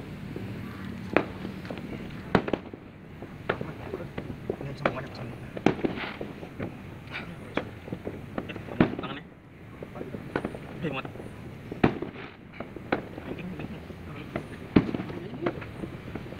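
Scattered sharp pops and crackles of small fireworks going off at irregular intervals on New Year's, with voices talking in the background.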